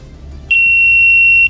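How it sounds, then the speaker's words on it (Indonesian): An electronic buzzer component under test gives one loud, steady, piercing tone lasting about a second, starting and stopping abruptly over a quiet background. "Misalkan seperti ini ada buzzer, jadi kita cek dia masih hidup atau tidak."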